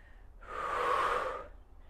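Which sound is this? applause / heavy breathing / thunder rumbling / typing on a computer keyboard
heavy breathing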